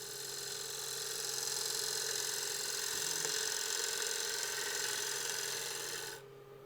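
A wood lathe spins a roughed-out bowl being re-mounted and turned, giving a steady, even motor whine with a faint tool contact partway through, then abruptly quieting near the end.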